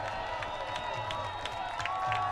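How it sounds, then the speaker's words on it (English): Crowd cheering in the stands during an Oakland Ballers baseball game, a sustained roar of voices and scattered clapping at moderate distance, with a low hum running underneath. "Crowd cheers."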